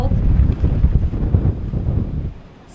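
Strong wind at sea on a fishing boat in rough water buffets the microphone with loud, low, gusting rumble. It eases near the end.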